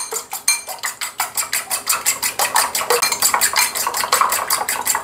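Eggs beaten in a bowl with a utensil for Hong Kong-style beef fried rice: rapid, even clinking strokes, around five per second, close and steady with no talking.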